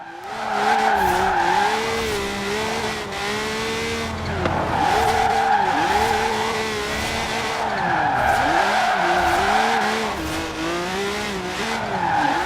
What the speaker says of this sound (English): So definitely a lot easier to get the car to slide around with the higher PSI.